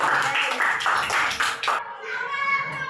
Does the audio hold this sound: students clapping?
yes